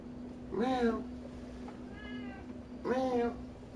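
A pet cat meows twice nearby, loud drawn-out calls a couple of seconds apart with a softer mew between them, over a steady low electrical hum.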